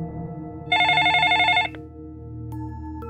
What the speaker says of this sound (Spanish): El teléfono seguía sonando en el tercer piso, como si alguien estuviera esperando una respuesta.